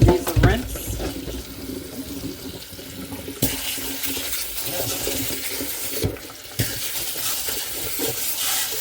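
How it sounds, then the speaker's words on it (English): Vegetables rinsed under a running kitchen tap while preparing a steak and salad dinner: a steady close splash of water that swells louder partway through, with a brief break before resuming. "let me give these a rinse"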